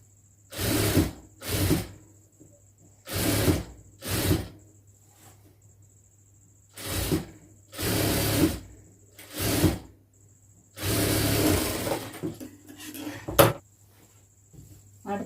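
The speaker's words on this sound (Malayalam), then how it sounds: "ഡബിൾ സ്റ്റിച്ച് ഇട്ട് കൊടുക്കാം." Sewing machine running a double stitch on a lined churidar, whirring in about eight short bursts separated by quiet pauses, close by.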